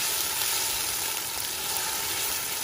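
A pot of fresh fish and chicken wing stew sauce with seasoning sizzles and fries steadily, a dense, even crackle close by with a faint stirring texture underneath, no voices.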